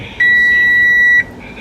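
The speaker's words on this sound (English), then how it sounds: "What is it gonna do? Beep." A single steady electronic beep, like a microwave timer, sounds for about one second, clear and close against quiet background noise.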